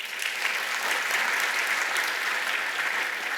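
Shareholders at an annual general meeting applaud to approve a proposal, with even, continuous clapping from a large room that holds steady for several seconds without voices.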